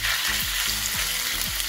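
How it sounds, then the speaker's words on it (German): Beef sizzles loudly in hot oil in a wok, a steady bright hiss with low rhythmic thumps of stirring, close and without voices. "Das werden wir jetzt für 2-3 Minuten ganz scharf anbraten."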